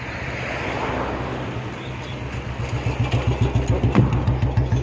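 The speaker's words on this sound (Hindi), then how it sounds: "गाड़ी भी आ रही है, बाइक वाला भी आ रहा है" A motorcycle and a car approach along a road, engine noise building from a distant hum to a close, pulsing throb that grows louder toward the end.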